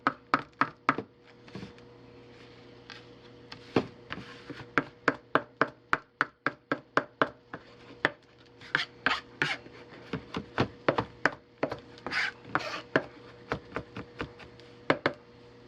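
A knife chops garlic on a cutting board in quick, crisp, close taps, coming in bursts of rapid strokes with short pauses between, loud and alone.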